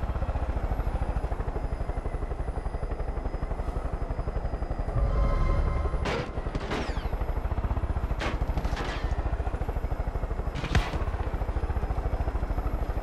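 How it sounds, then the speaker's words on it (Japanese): Helicopter flying in the video game Far Cry 5, a steady rotor drone running throughout with sharp gunshot-like bursts and clatter breaking in near the middle and end. "でもヘリ飛んでる音するけど。"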